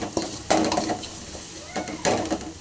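A spoon clanks and scrapes in a pan as egg masala is stirred and fried. The scrapes come in short bursts over a soft background sizzle, and a voice murmurs faintly underneath.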